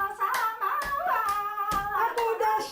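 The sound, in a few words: elderly woman clapping hands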